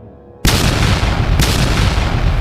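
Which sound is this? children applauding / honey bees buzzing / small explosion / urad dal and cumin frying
small explosion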